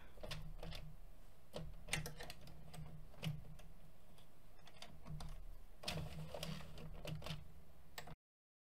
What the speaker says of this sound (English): So now we're going to go back the other way and tuck all of the stitches in between that did not get tucked